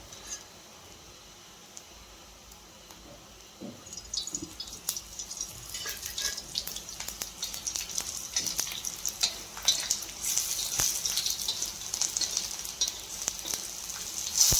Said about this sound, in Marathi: खमंग असा सुगंध सुटेपर्यंत आपल्याला धने भाजून घ्यायचे आहे